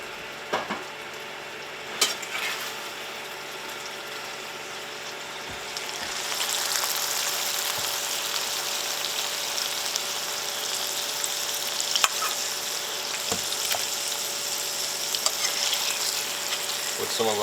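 Vegetables and meat frying in a pan for Cajun red beans and rice, a steady broadband sizzle that grows louder after a few seconds, with occasional clinks and scrapes of a spatula stirring throughout.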